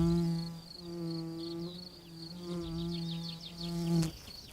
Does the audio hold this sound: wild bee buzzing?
yes